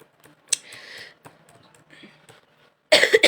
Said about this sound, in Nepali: आज त मलाई खोकीले त निकै ख्यास गर्यो।